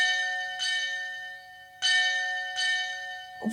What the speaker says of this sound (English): The first sound that we hear is this incredible ship's bell type sounding thing.